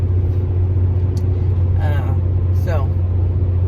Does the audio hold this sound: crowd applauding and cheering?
no